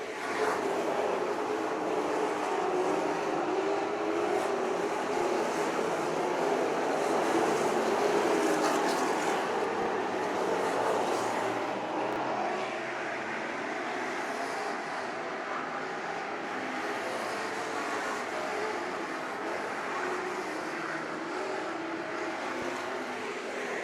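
Pro stock race cars lapping Cedar Lake Speedway, a continuous dense roar of several engines heard from a distance, steady throughout and easing slightly toward the end, with no talk.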